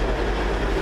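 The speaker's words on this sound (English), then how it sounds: "We now welcome the train which is going to be" Train arriving for the 20:30 service to Glasgow Queen Street, locomotive 17406 leading, a loud, continuous low rumble of engine and wheels close by.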